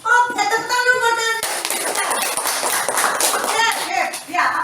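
Children clap together in a classroom during a lesson on squares, a burst of rapid, uneven clapping that follows a teacher's voice and continues under light chatter.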